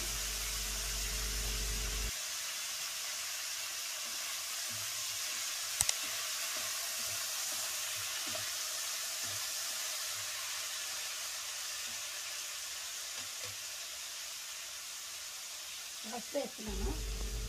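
Dry red chillies crackle and sizzle in hot oil with curry leaves in a pan while making mirchi bath, a steady, close frying hiss holding throughout with a short sharp clink near the end.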